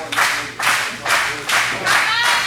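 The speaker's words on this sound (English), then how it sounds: "And the crowd is firing up for Nina right here." A wrestling show crowd at an MPW event claps in unison for wrestler Nina, five strong, evenly spaced rhythmic bursts filling the hall.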